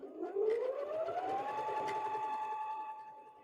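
A FYIYUE sewing machine runs a reverse blanket stitch with a slight zigzag, its motor whine climbing in pitch then holding steady in a continuous close hum for a few seconds.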